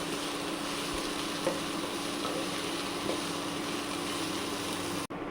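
Masala frying in a pan while being stirred, with a steady close sizzle and crackle and occasional soft scrapes of the spoon.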